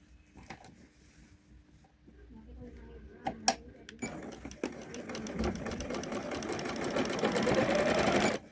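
A sewing machine stitches velvet dress fabric. Soft clicks and handling noises come first, then rapid, close machine stitching starts and grows steadily louder until it stops abruptly, with a voice talking in the background.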